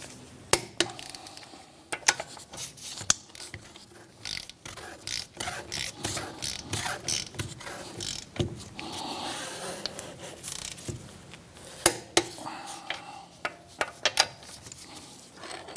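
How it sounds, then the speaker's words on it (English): Torque wrench with a 17mm socket set to 73 foot-pounds tightening lug nuts in a star pattern on a 2007-2013 Mitsubishi Outlander wheel, giving repeated ratcheting clicks and metallic clacks in irregular bursts, close by, with no talking. "grab our 17mm socket, set it to 73 foot-pounds torque, and we're going to run around these lug nuts in a star pattern to lock the wheel on"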